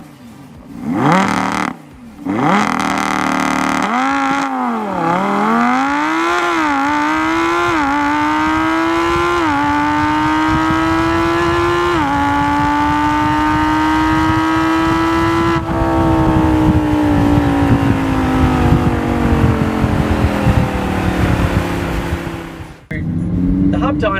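A Lamborghini Huracan engine revs hard on a dyno, climbing through repeated gear-like pulls into a long sustained high-pitched wail before cutting off abruptly, loud and close with no talk.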